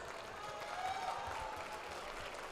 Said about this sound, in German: Gratulation, ein Applaus.